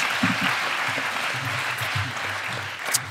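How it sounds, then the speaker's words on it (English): An audience claps steadily for about three seconds after a Three Minute Thesis presentation, a dense even patter of applause with no voices standing out. "Ladies and gentlemen, a round of applause for Heather Collins."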